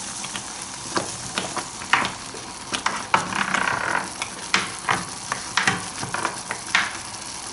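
Pieces of meat fillet go into hot oil in a pan, giving a steady sizzle broken by repeated sharp spatters and crackles as each piece lands. The cooking noise is close by, with no talking.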